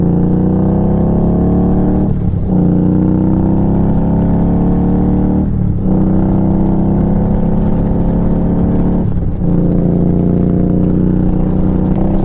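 Motorcycle cruising on a breezy highway at about 70 mph, a steady loud engine drone with rushing wind that dips briefly three times, heard alone with no talk.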